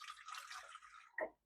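Water poured into a cooking pot for boiling, a steady splashing stream that runs for about a second and ends in a short final gush.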